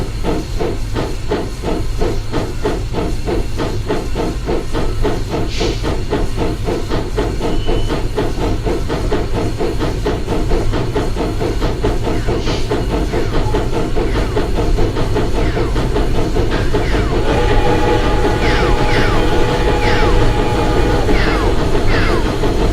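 Train Simulator 2015 on Donner Pass with an oil-fired cab forward steam locomotive: a loud, steady hiss and chuff fill the cab while sharp, laser-like air brake zaps fire off repeatedly, standing out over the constant roar.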